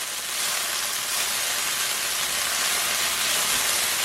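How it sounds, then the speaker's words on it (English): A chopped garlic clove frying in a tablespoon of olive oil, giving a steady, close, even sizzling hiss throughout with no talking. "I fry up that garlic"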